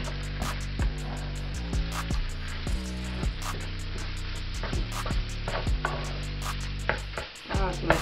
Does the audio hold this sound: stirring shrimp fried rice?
yes